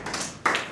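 Brief burst of audience applause after a Hindi poetry recital about an old-age home, a dense patter of hand claps swelling sharply partway through.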